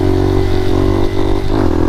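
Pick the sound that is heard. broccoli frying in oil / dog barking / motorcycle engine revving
motorcycle engine revving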